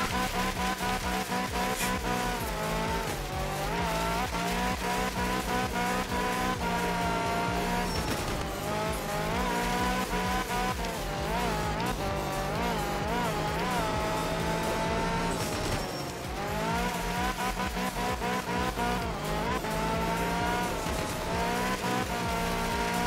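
A Group 4 Turbo rally car racing a wet Sardinia stage in art of rally: a continuous, loud engine rising and falling through gear changes, with squealing tyres as it slides through corners.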